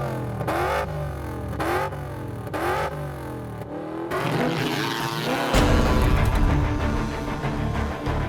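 A jet engine on a jet-powered kayak spools up in a few rising, rhythmic surges, then bursts into a loud, rough, roaring blast that stays close and powerful to the end.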